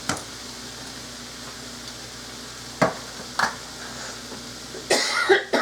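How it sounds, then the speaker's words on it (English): A few short coughs, spaced apart over a quiet, hissy kitchen background, with a louder burst of coughing near the end. "I don't know what I'm coughing"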